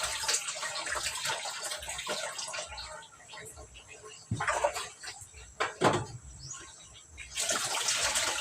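Running water splashes while fish is rinsed for breakfast frying, a steady wash broken by a few louder sloshes and pours near the end, with a voice talking over it.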